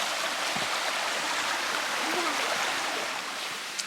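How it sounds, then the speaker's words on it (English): A river flows with a steady, broadband rushing wash throughout, moderately loud and constant, with a faint voice briefly audible beneath it. "And there's the river again"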